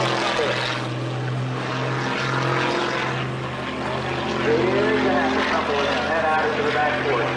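Loud, steady propeller drone from a Pitts aerobatic airplane performing a hammerhead at a small airport airshow, the engine pitch rising and shifting as it climbs while an announcer talks over it.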